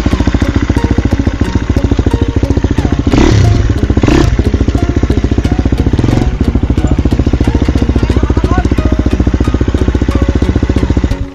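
An MPX M250 enduro motorcycle engine runs close by with a steady, loud, pulsing thrum on a trail ride, a few thumps breaking in midway.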